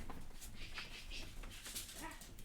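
A dog whimpers and gives a few soft yips indoors, faint and close, with no talk over it.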